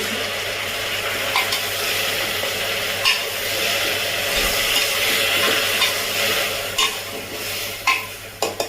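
Green peas and chopped vegetables for a pressure-cooker pav bhaji being stirred and mixed in a pot, a wet continuous shuffling with a faint hiss and occasional spoon knocks near the end, heard close and without speech.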